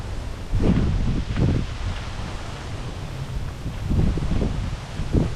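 Wind buffets the microphone in low, rumbling gusts that swell and fade on a hiking trail in East Dorset, UK, a constant rushing roar with no talking.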